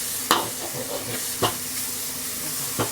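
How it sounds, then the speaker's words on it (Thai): Yakisoba noodles are stir-fried quickly in a pan with sauce, a steady hissing sizzle broken by three sharp metal spatula scrapes at spaced intervals. "พยายามผัด ผัดให้เร็ว"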